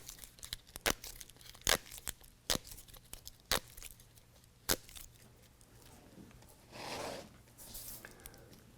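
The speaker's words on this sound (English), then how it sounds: "We're going to go ahead and pull those apart so that we can attach them to our tailgate piece" BedRug hook-and-loop fastener strips for a Jeep Gladiator JT tailgate are pulled apart, giving a series of sharp, separate rips at irregular intervals, followed by a longer, softer tearing peel near the end.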